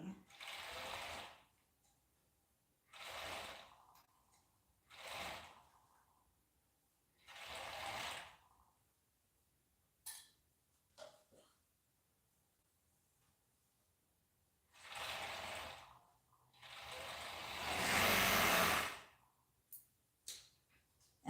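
A home sewing machine stitches over a thick cuff of dark fabric in several short bursts separated by pauses, with small clicks between runs and a longer, louder run near the end.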